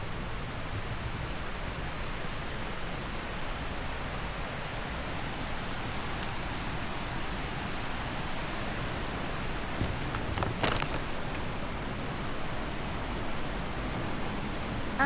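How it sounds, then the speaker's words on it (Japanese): Oizumi waterfall at Shima Onsen, reached along a path still damp after rain, gives a steady, unbroken broadband rush of falling water that stays even and fairly close throughout, with no voices. "大泉の滝の入り口に到着。"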